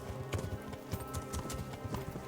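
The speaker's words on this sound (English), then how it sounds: "You make your horse be quicker." Galloping horse hooves pound in Kingdom Come: Deliverance, a medieval role-playing game set around a castle assault, with a fast, regular beat of close, loud hoofbeats over background music and ambience.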